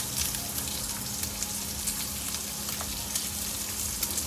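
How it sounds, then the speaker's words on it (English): Onion and garlic sizzle steadily in a pan during RV cooking for a spiralized sweet potato dish, a loud, even hiss of frying with faint crackles throughout and no talking. "Now I'm gonna add my onion and my garlic."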